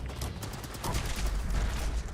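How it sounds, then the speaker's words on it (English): Automatic weapon fire in the Fallout 76 video game, a rapid continuous burst of shots that grows slightly louder partway through and holds steady to the end. "Let's not forget this is a automatic weapon here."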